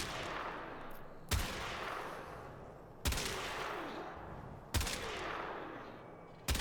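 Vulkar Wraith sniper rifle from the Warframe game firing four loud, sharp shots spaced about one and a half seconds apart, each with a short ringing tail over a steady low background.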